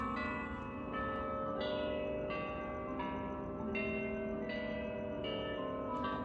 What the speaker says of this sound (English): The endless haunted cemetery bells.